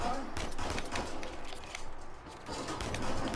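Sustained gunfire in Uncharted 4, a steady run of rapid shots from middle distance during a combat firefight, with brief pauses between bursts.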